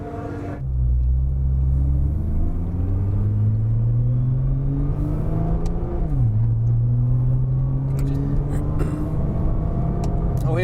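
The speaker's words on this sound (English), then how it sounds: "I'm taking you for a lap of Silverstone in the Nissan GT-R." Nissan GT-R safety car lapping the Silverstone circuit, its engine droning loud and steady with a rising pitch as it accelerates, a brief dip and shift change near the middle, then pulling hard again.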